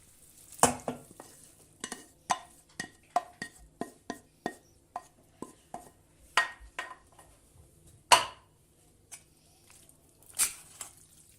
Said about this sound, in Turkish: Şöyle bir iki karıştırıp makarnamızın içine boşaltıyoruz